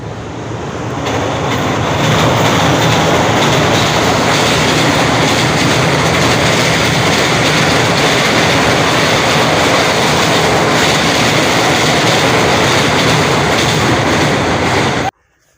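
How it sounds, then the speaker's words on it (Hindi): A train rolls past near the Sutlej River at Bahawalpur, a loud, steady rumble and rail clatter that builds within two seconds and holds for about thirteen seconds before cutting off, with no talk. "ओ सिंगल ट्रेन ही आ गयो है"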